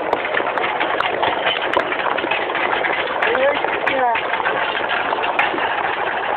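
A Rába engine running in a forest, a loud, constant, rough drone with a faint tonal whine in the middle, while voices talk over it.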